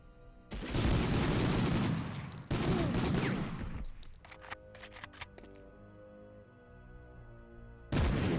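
A loud explosion rumbles in a PS1 video game, with a long boom that fades into clicks and ringing tones before another blast hits at the end.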